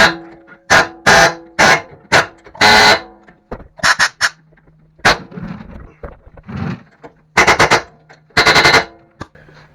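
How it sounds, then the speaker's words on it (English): An air hammer rattles in loud, rapid bursts against a Chevrolet Silverado ball joint, with repeated start-and-stop hammering and clanks of metal in the short pauses. "I wonder if I can just drive that out with the air hammer."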